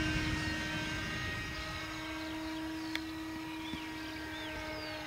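A radio-controlled model aircraft flies overhead, its small motor a steady, distant drone with a faint shifting whine, moderately quiet and unbroken throughout.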